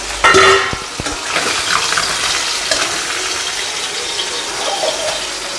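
Tangra fish sizzling and spitting in hot oil in a pan, a loud burst as the fish goes in, then a steady dense frying hiss with faint clinks of utensils, no talking.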